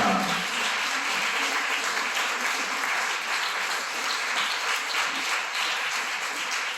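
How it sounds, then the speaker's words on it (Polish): A concert audience in Poland gives a band on stage a big, sustained round of applause, with loud, dense clapping that stays level throughout and no talk on top. "ogromne klaski"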